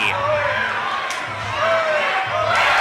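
Crowd noise from an amateur MMA fight night, a steady roar of cheering and shouting supporters with a commentator's voice running over it.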